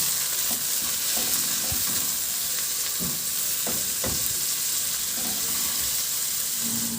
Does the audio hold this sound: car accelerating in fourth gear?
no